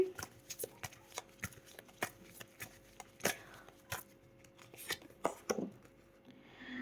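Tarot cards are shuffled and slapped down one by one, a series of crisp, close paper snaps and flicks at an irregular rhythm with soft rustling between, fairly quiet overall.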